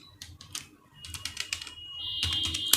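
Rapid clicking of a computer keyboard as C code is typed, irregular bursts of close, crisp keystrokes with a faint steady tone underneath and no speech.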